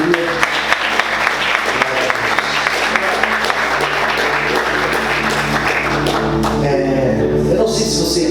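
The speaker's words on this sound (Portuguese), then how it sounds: "Você pode aplaudir Jesus com alegria." A church congregation claps during a service, giving steady applause with some sharper taps near the front, over a sustained musical drone and tones that shift toward the end.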